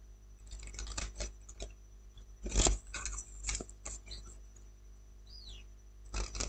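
Scissors snip through the box part of a Christmas decoration, a few sharp, quiet cuts spaced irregularly with small handling rustles between them, close by.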